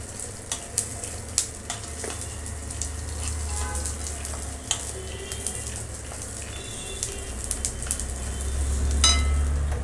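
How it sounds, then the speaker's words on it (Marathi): Cumin seeds sautéing in oil for Solapuri peanut chutney give a steady low sizzle with scattered crackles and pops, close up and without talk. "एक चमचा जिरे घालणार आहोत। हे सगळं तेलात छान परतून घेणार आहोत।"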